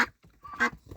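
Female domestic ducks quack loudly, two or three short, close nasal honks in under a second, with no talking.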